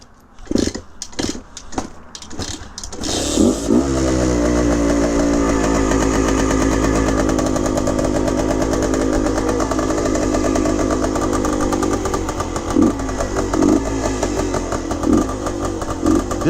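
A 1974 Bultaco Alpina 250cc motorcycle engine starts after a few brief attempts, then settles into a loud, steady close-up idle and warm-up with a rough, buzzy two-stroke tone and occasional small revs.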